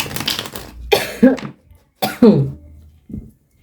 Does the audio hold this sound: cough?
yes